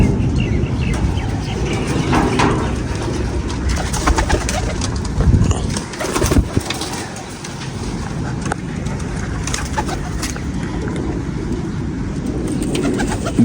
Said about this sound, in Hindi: बंद कबूतर होते हैं और लाइटों में बैठ रहे हैं सारे